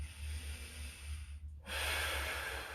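Close, audible breaths come from someone holding a deep piriformis stretch with a stretching pole. A softer, steady breath dips briefly, then gives way to a stronger, sustained exhale, with no speech.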